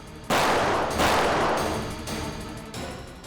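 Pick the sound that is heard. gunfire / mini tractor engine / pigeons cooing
gunfire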